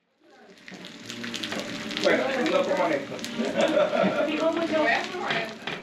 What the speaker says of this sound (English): Corn tortillas sizzle in a pan as Julian Salinas prepares for a taco night